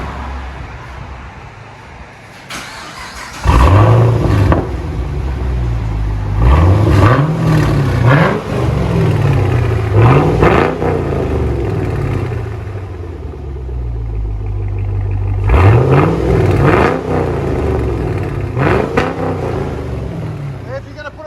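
Chevy Camaro SS with a 6.2L V8 and long tube headers revs repeatedly, loud close rising-and-falling blips over a rumbling idle, with voices talking in the background.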